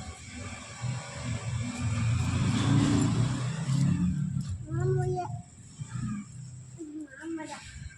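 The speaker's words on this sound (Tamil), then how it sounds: "மாமா பைக் எடுத்துகிட்டு போகிறாங்க" A motorbike engine rumbles and revs close by, then fades as it pulls away, with people talking over it.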